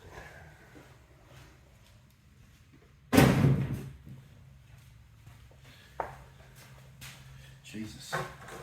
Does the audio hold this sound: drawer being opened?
yes